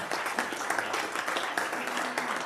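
An audience at a debate claps and applauds continuously, a dense patter of many hands throughout, with a faint voice underneath.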